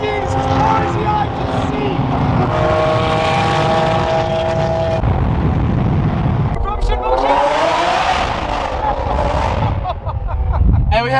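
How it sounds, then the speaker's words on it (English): Lamborghini exhaust roars at a car rally in Utah, a loud, steady engine drone with revving pitch sweeps as cars pass close by, while voices talk over the noise. "What exhaust is on that car? It sounds so good."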